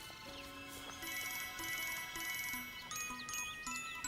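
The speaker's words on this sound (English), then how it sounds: "sorry, that's my phone." A cartoon mobile phone ringtone from the Winx Club series plays alone as a bright, repeating electronic jingle of short chiming notes in a steady looping rhythm.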